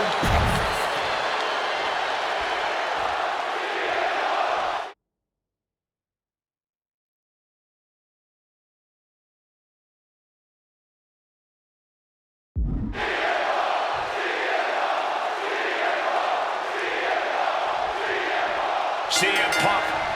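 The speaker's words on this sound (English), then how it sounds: "And just listen to this crowd here in Chicago." A Chicago arena crowd in the WWE 2K26 wrestling game roars and cheers loudly, with a long stretch of total silence in between before the roar returns.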